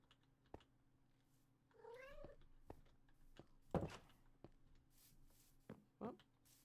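A cat in a video game meows once in a rising, wavering call, followed by a few scattered thuds and clicks over a quiet, steady ambient hum.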